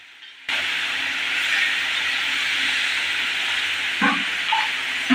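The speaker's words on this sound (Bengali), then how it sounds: "মাছের মাথা লেজাগুলো ভালো করে ভাজা হয়ে গেছে" Hilsa fish heads and tails frying in hot mustard oil in a wok make a steady, loud sizzling hiss that runs on after a sudden start, with a few louder crackles near the end.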